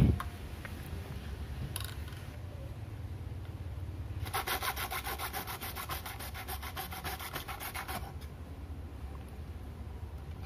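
A multifunction mini saw cuts through a medium-sized pipe with a steady, fairly quiet rasping hum, getting harsher and brighter for about four seconds in the middle before settling back; no speech.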